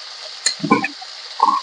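A soft hiss of shallots frying in a pan of hot oil for tempering, with a few crackling pops and sputters, heard up close.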